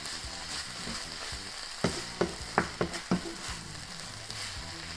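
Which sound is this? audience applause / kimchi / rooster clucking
kimchi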